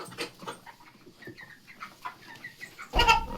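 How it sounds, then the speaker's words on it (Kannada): Heavy Andhra broiler chickens, about 5 kg each, cluck and squawk in short irregular bursts close by, ending with a louder flurry of commotion. "ಕೋಳಿ ಹೆಂಗೆ ಮಾಡ್ತಿದ್ದಾವೆ"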